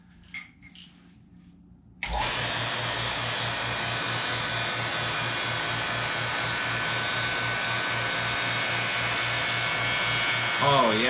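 A vacuum pump starts up after a quiet stretch and runs with a steady, loud mechanical hum and rattle while it draws the air out of a sealed chamber holding a balloon.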